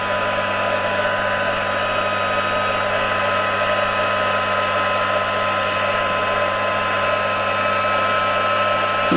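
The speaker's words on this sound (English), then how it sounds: "I've got my heat embossing tool out, because it just goes a bit quicker" A heat embossing tool blows hot air in a constant, loud, close whoosh that holds steady for the full stretch without a break.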